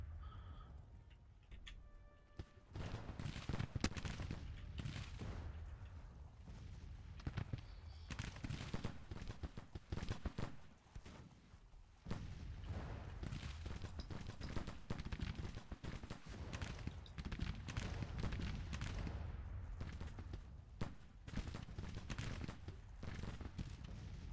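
Cavalry flanking fire in a Grand Tactician Civil War battle, a dense rolling crackle of rifle volleys and scattered shots that continues steadily with brief lulls, loud and busy throughout.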